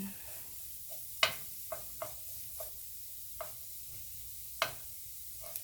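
Garlic frying in a pan sizzles quietly throughout. Several sharp clicks of a utensil stirring against the pan cut through at irregular intervals, and no one speaks.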